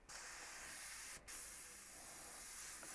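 Airbrush spraying paint out during cleaning, a faint, steady hiss that breaks off for a split second near the middle and then resumes, close by with no voices.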